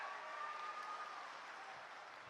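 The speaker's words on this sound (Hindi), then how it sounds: "एक साथ जोरदार तालियां बजाकर" Crowd applause at a Rahul Gandhi public rally in Ratlam, Madhya Pradesh, a steady wash of clapping that holds evenly for a couple of seconds and sounds distant and diffuse, with no voices on top.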